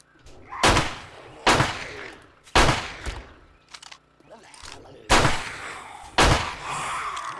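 Pistol shots in the zombie survival game 7 Days to Die, six loud sharp reports spaced irregularly about a second apart, with faint groans and thuds between them.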